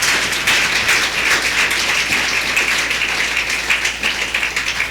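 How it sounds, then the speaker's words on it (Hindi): A church congregation claps together in steady, dense, loud applause, with hands beating continuously throughout without pause. "हालेलुया, ताली बजा सकते हैं"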